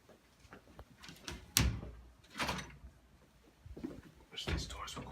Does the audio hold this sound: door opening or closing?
yes